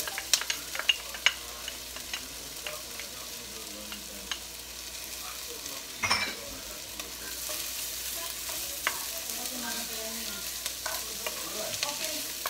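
Garlic sizzles gently in a hot pan while cooking Bicol Express, a low steady crackle with occasional sharper pops and one louder scrape of stirring midway.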